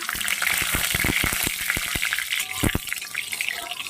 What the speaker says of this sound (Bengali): তেলটা এবার গরম হয়েছে লঙ্কাটা তো দিয়ে দিয়েছি দিয়ে দেব ফোড়ন